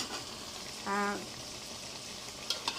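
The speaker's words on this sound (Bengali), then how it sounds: "কুমড়া শাক দিয়া আর পেঁপে দিয়ে রান্না করতেছি" Pumpkin greens and papaya fry in a pan with a quiet, steady sizzle, broken by a short tonal scrape near the start and a couple of light clicks toward the end.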